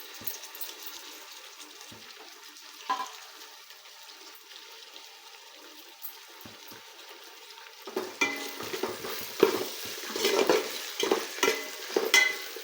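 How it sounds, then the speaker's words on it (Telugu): Mixed vegetables with mint, curry leaves and coriander fry and get stirred in a pan, a faint low sizzle at first, then louder scraping and clattering stirs in the second half, with no talking. "మనం వేసుకున్న వెజిటేబుల్స్ అన్నీ ఫ్రై చేసుకోవాలండి"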